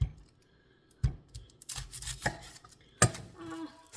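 An onion is chopped with a knife on a cutting board: several sharp, irregular knock-like cuts spread over a few seconds, close and fairly quiet, with a short rustle of handling between them and no talking.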